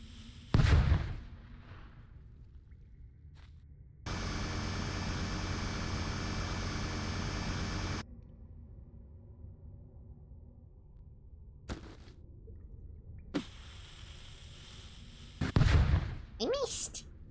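Blasts go off in a video game about digging a hole, with a sharp boom at the start, a sustained roaring rush lasting several seconds, another long burst later, and a final loud thump near the end, all close.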